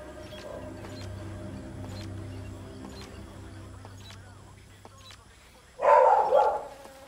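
In the Call of Duty Ghosts Amazon jungle, a single burst of dog barking rings out near the end, loud and close, after several seconds of quiet ambience with a faint murmured voice.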